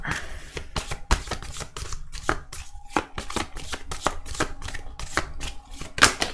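Tarot cards being shuffled by hand, a steady series of crisp papery riffles and slaps close up, repeating at an even pace with a slightly louder snap near the end.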